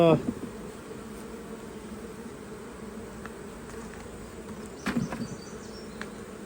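Honey bees buzz steadily around an opened hive, a continuous close drone through the whole stretch, broken by a few faint knocks and clicks of equipment.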